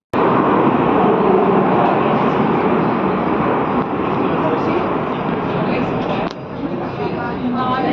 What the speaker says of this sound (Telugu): ట్రైన్ సౌండ్ అది ఎలా ఉంటుంది అనేది చూపించడానికి అనేసి పెట్టాను